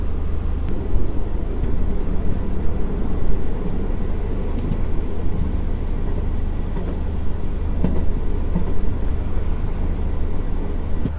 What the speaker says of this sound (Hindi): फिलहाल अभी 100 की रफ्तार में इस रेल मार्ग पर मैं यात्रा कर रहा हूँ।